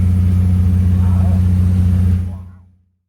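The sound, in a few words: Chevy S10 four-cylinder engine revving with FlowMaster FlowFX exhaust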